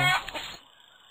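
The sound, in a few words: chickens clucking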